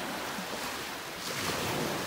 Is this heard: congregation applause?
no